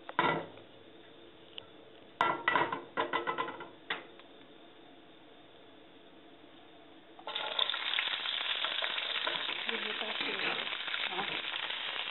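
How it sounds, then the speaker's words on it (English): Jalapenos saute in a wok over high heat, with a few clanks of utensil on metal early on, then a steady, louder broadband sizzle that fills the last several seconds; no talking. "we're going to saute the jalapenos next. Again, on high heat"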